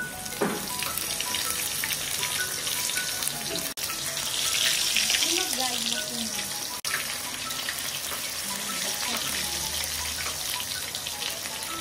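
Surmai fish frying in oil in a Konkan home kitchen in Vengurla, with a steady loud sizzle and crackle running throughout and faint voices in the background.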